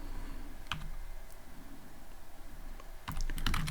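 Typing on a computer keyboard while coding in Python, faint close key clicks in sparse bursts over a low room hum, ending in a quicker cluster of taps.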